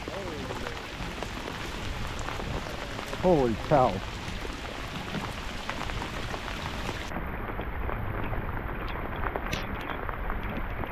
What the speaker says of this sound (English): Now that's some rain.